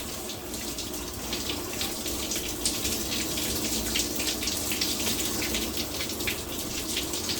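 Water runs steadily from a tap into a sink as a beard is rinsed out, a continuous close splashing gush with flickering spatter over the whole stretch, no talking.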